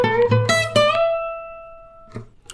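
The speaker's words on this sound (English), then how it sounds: "here's a guitar lick number 3" A blues guitar lick played alone on electric guitar: a quick run of plucked notes ending on a long sustained ringing note that fades out, then a brief final pluck.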